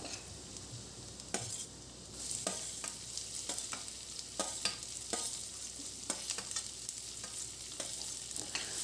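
Onion and garlic sauté in a pan with a continuous soft sizzle, broken by sharp clicks and scrapes of a spatula stirring at irregular intervals, close and fairly quiet.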